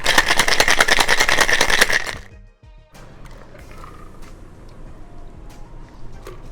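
A cocktail shaker rattles hard for about two seconds in a fast, even rhythm of ice hitting metal while a Bradsell Collins is being mixed, then stops, leaving quiet clinks and faint handling sounds.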